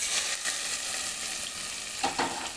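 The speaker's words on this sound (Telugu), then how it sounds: "పోపు ఈ పప్పులో వేసుకోవాలి" Hot oil hisses and crackles steadily as tempering with curry leaves and turmeric hits toor dal with cucumber, with a couple of sharper sizzling bursts toward the end.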